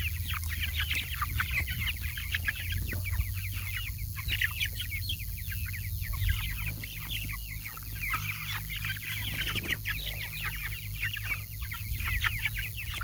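A crowd of Cornish Cross meat chickens clucks and cheeps continuously while being loaded into crates, a busy, close flock chorus over a low steady hum, with no talk.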